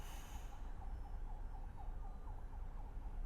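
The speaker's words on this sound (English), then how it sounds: "I actually think that's an ambulance." A faint, distant ambulance siren wails in a rising and falling pattern beneath a steady low rumble, in the video game Subnautica.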